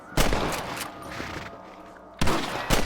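Rifle gunfire in Red Dead Redemption as John Marston shoots rabbits: loud, close cracks, one shot near the start and another burst near the end, separated by a decaying rumbling tail.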